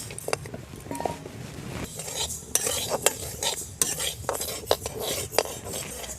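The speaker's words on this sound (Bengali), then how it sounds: "প্রথমে আমি ডালগুলো ভেজে নেব শুকনো খোলায়।" Lentils are dry-roasted in a hot wok with no oil and stirred with a metal utensil, giving a scraping, rustling churn broken by sharp, irregular clinks against the pan, close and fairly loud.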